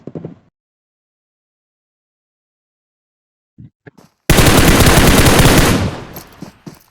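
In PUBG Mobile, a few short, faint bursts and stretches of near silence give way to a loud, sustained rattle of automatic gunfire that fades away over a couple of seconds.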